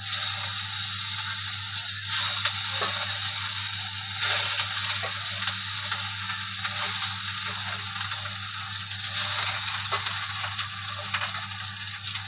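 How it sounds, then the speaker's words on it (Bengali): Fish frying in a pan in a home kitchen, a steady loud sizzle and hiss that holds evenly throughout with small crackles and no talk. "মাছটা আবার ভেজে নিই"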